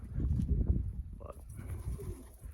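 Soft low cooing of pigeons in an aviary, a few faint burbling calls close by with a quiet background.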